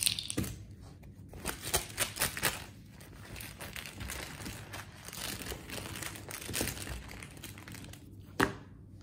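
Hands rummaging in a cloth bag to draw a token during a board game: quiet crinkling rustles and small clicking taps in uneven bursts, ending with one sharper click, close and soft with no voices.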